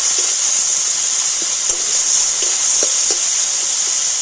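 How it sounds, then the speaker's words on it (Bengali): Finely chopped tomato frying in oil with whole cumin seeds, a steady close hiss and sizzle with scattered soft pops and crackles, no voices. "টমেটোটা মিহি করে কুচিয়ে নিয়েছি তো দিয়ে দিলাম করে একটু ভেজে নেব"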